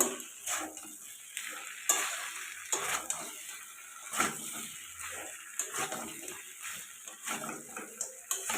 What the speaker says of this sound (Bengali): কিছুক্ষণ আমি আরও একটু ভালো করে কষিয়ে নেব